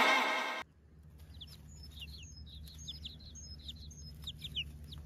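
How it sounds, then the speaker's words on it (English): A hen clucks in short, repeated, quiet calls mixed with light chirps over a low hum, after a brief loud burst at the very start. "H for hen."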